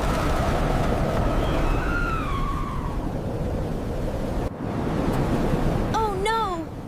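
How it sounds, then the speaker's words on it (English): A strong wind blows hard outdoors with a steady, full roar and rushing noise throughout. Brief voice-like tones rise and fall over it near the start and again at the end. "Suddenly, the wind starts to blow very hard."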